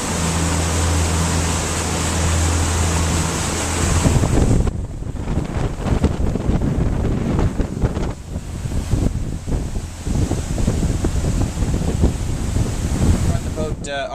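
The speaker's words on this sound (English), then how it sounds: "Boat's smooth at this speed." A 2001 Bayliner 3788 Sedan cruises at speed on open water. Steady engine drone and rushing water run under heavy wind buffeting on the microphone throughout.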